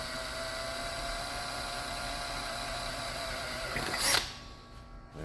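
A steady, high-pitched mechanical whine of a drill boring a rivet hole runs continuously, then surges briefly near the end before cutting off, leaving a quieter hum.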